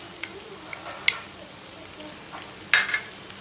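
Oregano and chili flakes stirred into pasta in a pan, a soft sizzle under scattered scrapes and clinks of a spoon, with one louder clatter near the end.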